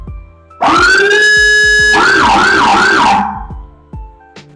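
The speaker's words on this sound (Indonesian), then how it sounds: "Yang Hammer ini yang frekuensi rendah." A low-pitched siren from a Hammer speaker fitted to a modified Toyota Hilux, blaring loud and close with a sustained tone that then swoops in several rapid wails before cutting off, with some background clicks.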